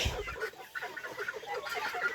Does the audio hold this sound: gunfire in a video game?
no